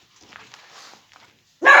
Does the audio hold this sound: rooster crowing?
no